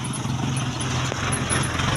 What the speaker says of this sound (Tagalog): dumadaan ang sasakyan